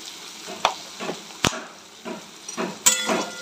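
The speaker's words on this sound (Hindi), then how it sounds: "अब इसको अच्छे से भूनना है तब तक जब तक प्याज से ऑयल ना निकल आए" Chopped onions frying with a pinch of salt in a pan, a steady low sizzle broken by a few sharp clinks and scrapes of a spoon stirring, close and fairly quiet with no voices.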